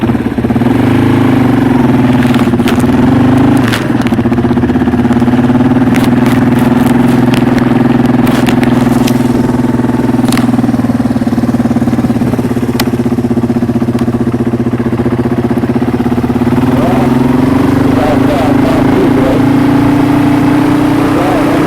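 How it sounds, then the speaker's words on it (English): A motorbike ridden along a trail while out moose scouting drones steadily for the whole stretch, its engine note rising slightly near the end over constant wind rush and scattered clicks and knocks. "I'm going to try to film going on the bike a little bit."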